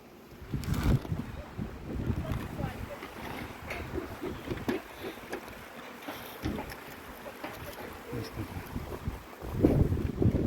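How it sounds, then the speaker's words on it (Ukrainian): Wind gusting outdoors in the mountains near a beekeeping apiary, rough low rumbling buffeting that rises and falls unevenly across the microphone, with a stronger gust near the end. "щось звіявся вітер"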